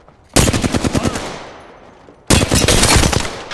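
Rapid automatic gunfire in a battle royale shooter game, loud and close. A fast rattling burst fades out, and after a pause a second sustained volley follows.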